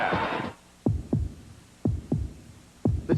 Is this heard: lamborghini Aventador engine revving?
no